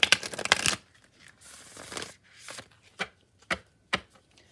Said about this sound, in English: I'm going to go ahead and do some hard shuffles of the card of the day on our table here